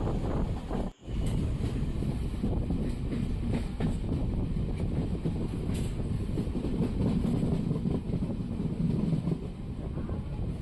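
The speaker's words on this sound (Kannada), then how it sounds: "ನಮ್ಮ ಟ್ರೈನ್ ಈಗ ಕುಂದಾಪುರ ರೈಲು ನಿಲ್ದಾಣಕ್ಕೆ ಬಂದಿದೆ" A train on the Konkan Railway near Kundapura rumbles steadily and loudly from inside the carriage, with constant rolling wheel noise and wind, a brief dropout near the start.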